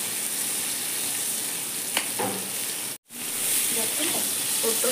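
Pointed gourd (potol) fries in a pan with a steady hissing sizzle, broken by a brief dropout midway before the frying noise returns just as strong, with faint utensil clinks in between.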